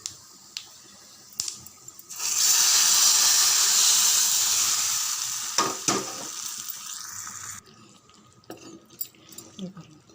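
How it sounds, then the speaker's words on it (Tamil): A spice tempering for fish curry sizzles loudly in hot oil, a bright crackling hiss that swells, holds for several seconds and fades, then gives way to scattered clinks, drips and faint stirring sounds. "இங்கே பாருங்கள் நல்லா பொரிய ஆரம்பிச்சிடுது"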